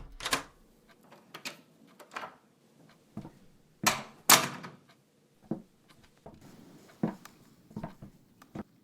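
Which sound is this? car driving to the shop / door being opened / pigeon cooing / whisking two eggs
door being opened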